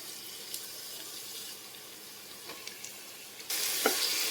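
A green paste of herbs and spices, including cardamom, cloves, cinnamon and coriander, frying in a pan for green pulao, a soft steady sizzle that swells into a louder, brighter hiss toward the end.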